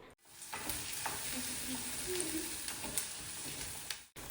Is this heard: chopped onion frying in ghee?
yes